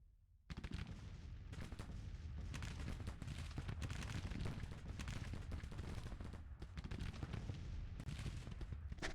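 Artillery and musket fire in a Civil War video game battle: a dense, continuous roar of overlapping gunshots and booms that runs loud and steady for the whole stretch, with no talk over it.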